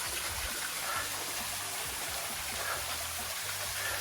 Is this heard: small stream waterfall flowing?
yes